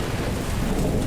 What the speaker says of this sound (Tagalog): lumikha ng malakas na tunog na tinatawag naman nating kulog